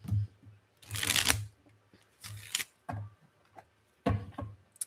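Tarot cards being shuffled in several quick riffling bursts separated by short pauses, close up with no talking.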